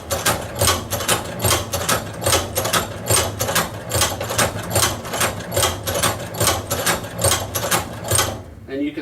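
A Cowboy Outlaw hand crank sewing machine stitches leather in a steady run of about twenty sharp, evenly spaced clacks, loud and close, ending in a brief rustle.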